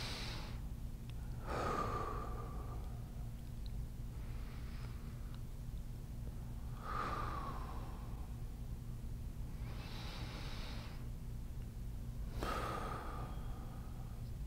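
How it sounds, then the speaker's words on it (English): Deep breathing during a seated twist stretch in a chair-assisted mobility routine: three slow, audible breath cycles, each a sharp inhale followed by a longer exhale, close and clear over a low steady hum, with no talk. "we're going to do 3 more breaths."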